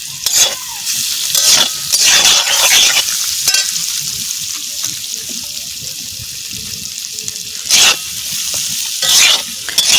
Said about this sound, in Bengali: পেঁয়াজ দিলাম, এবার ভালো করে একটু ভেজে নেব।